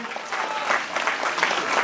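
Audience applause at a Golden Globe Race sailing event in Les Sables d'Olonne, a steady wash of many hands clapping with a faint voice underneath, fairly loud and even throughout.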